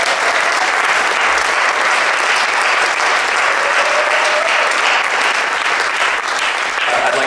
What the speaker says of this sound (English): So please, huge round of applause for all of those people just mentioned.